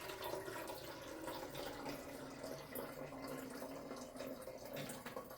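Water is poured steadily into a bottle for a fizzy lava lamp activity, making a continuous, close, gurgling and splashing rush throughout.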